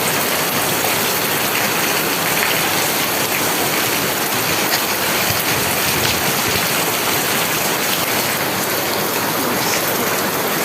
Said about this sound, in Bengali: চলুন আমরা বৃষ্টির আওয়াজটা শুনি।